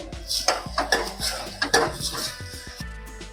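A spoon stirs salt, turmeric and red chili powder in a metal pot for Kathiyawadi urad dal. Close, repeated clinks and scrapes of metal on metal come in an uneven rhythm, with no voices.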